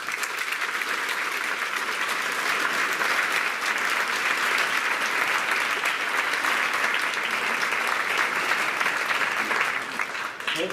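Sustained, loud applause from an audience welcoming a retired Navy Master Chief as Veterans Day keynote speaker, steady clapping filling the room for about ten seconds with no speech over it.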